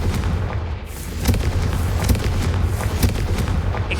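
Fire-blast spell explosions in the Hogwarts Legacy video game, several booming blasts and bursts in quick succession over a dense, rumbling din, loud and close.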